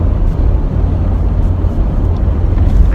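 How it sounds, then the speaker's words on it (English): Strong wind buffeting a car, a steady loud rumbling roar with gusty low-end swells, heard from inside the vehicle with no talking. "I can't believe how windy it is."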